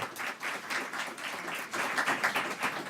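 A seated audience at a Puerto Rico gathering honoring local mayors breaks into steady, fairly quiet applause, a dense wash of overlapping hand claps that holds for a few seconds without any voices on top.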